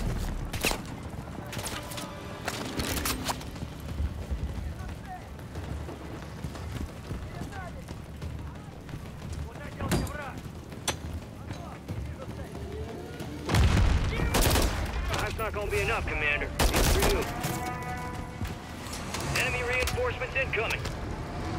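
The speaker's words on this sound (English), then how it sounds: "There's enemy fire." Enemy gunfire in Call of Duty Modern Warfare 3 cracks out in scattered single shots and short bursts over a constant battlefield din. The shooting grows denser and louder in the second half, with voices heard at moments.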